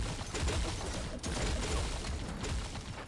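Dense, continuous rapid-fire shooting from the Cluster Bomb weapon in the video game Pixel Gun 3D, a loud unbroken barrage of overlapping shots with only a brief dip partway through.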